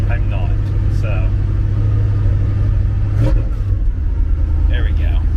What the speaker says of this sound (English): Idle's coming back down a little bit now